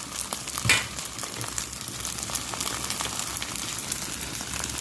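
Fried rice with naem and vegetables is stir-fried in a pan, giving a steady close sizzle with frequent light scraping and tossing clicks and no talking.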